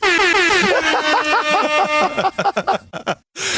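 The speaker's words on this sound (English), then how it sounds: "I figured you needed your own hip-hop air horn." A loud, brassy air horn blares in a long sustained blast with wobbling pitch, then breaks into rapid choppy honks before cutting off.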